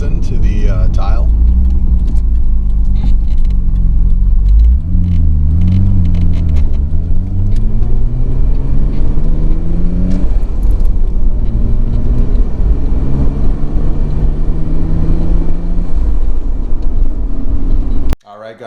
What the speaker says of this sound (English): there's a little taste of the HKS Super Sequential. Often imitated, but not duplicated. That's the blow-off valve